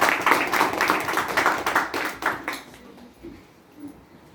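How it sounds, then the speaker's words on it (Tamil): An audience at a Republic Day celebration held in Sharjah applauds with dense, fairly loud clapping for about two and a half seconds, then it quickly fades to quiet. "பலத்த கைத்தட்டுவது."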